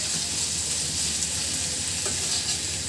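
Whole garlic cloves frying gently in oil in a pan, a steady, even sizzle at moderate volume with a faint stir or clink partway through and no voices.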